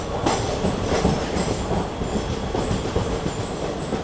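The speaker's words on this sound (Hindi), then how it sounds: "दोस्तों, हमारी ट्रेन का नडियाद जंक्शन से डिपार्चर हो चुका है।" The Ahimsa Express rolls out of Nadiad Junction on its rails, a loud continuous rumble with rhythmic wheel clatter and occasional squeal, heard up close with no talk.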